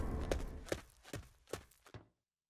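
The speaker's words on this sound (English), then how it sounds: "The last footsteps we'll ever hear." Footsteps in the survival game This War of Mine, about five distinct, evenly paced steps that land close and quiet, then stop abruptly into silence.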